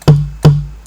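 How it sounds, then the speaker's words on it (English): A tom drum sample in beat-making software, pushed with extra volume distortion, strikes twice about 0.4 seconds apart, each hit heavy and thick with a long low decay, loud and alone. "this volume knob adds some sort of distortion to your drums"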